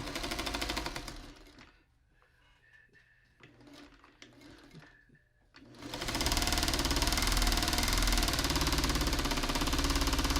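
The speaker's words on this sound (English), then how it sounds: "Now we're going to get that sewn together just like a 4-patch." A sewing machine stitches quilt patches together in a loud, rapid mechanical whir that runs, pauses for a few seconds of quiet fabric handling, then resumes steadily for the rest.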